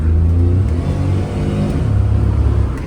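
A Suzuki Jimny J2 car engine gives a short, throaty rev, a low rumble swelling and settling back, close and loud with no voices.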